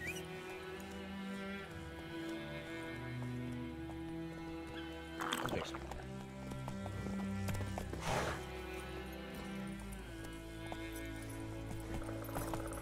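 Roach, the horse in The Witcher 3, trots with steady clip-clop hooves over a bed of game music. A couple of louder bursts of movement break in along the way.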